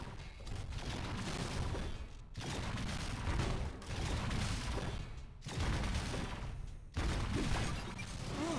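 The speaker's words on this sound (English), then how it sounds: "more so I'm just shooting the pylon" Sustained bursts of gunfire aimed at a pylon in Transformers: War for Cybertron, in rapid loud volleys separated by a few brief pauses, with no talking.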